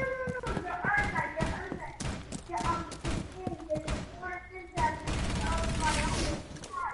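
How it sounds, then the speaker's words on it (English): Gunfire rattles in a multiplayer video game match, bursts of sharp shots and thuds coming in clusters with brief gaps, loud and close, while players talk over it. "Who's shooting?"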